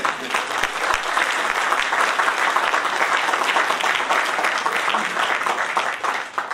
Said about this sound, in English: I just want to give these folks a round of applause for their work.